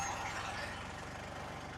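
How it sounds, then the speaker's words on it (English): A tractor engine idles steadily and close by, a continuous low throbbing rumble with a faint knocking pulse and no talk over it. "let's get the tractor moved a little bit closer"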